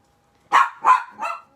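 A dog barks three times in quick succession, close and loud, with the last bark slightly softer.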